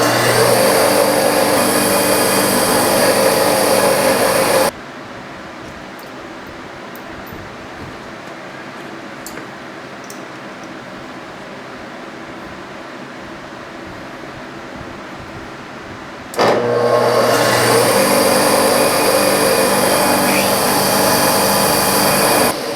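A milling machine spindle turns at 2,950 RPM, its top speed, giving a loud, steady broadband whir at the start and end with a much quieter stretch of low running noise between.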